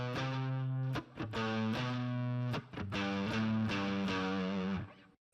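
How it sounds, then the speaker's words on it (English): Overdriven electric guitar through a Tube Screamer pedal, flanger off, plays the main chorus riff: loud sustained distorted chords in a steady rhythm, with brief gaps between phrases and no voices. "So we can see I've got a tube screamer on and no flanger."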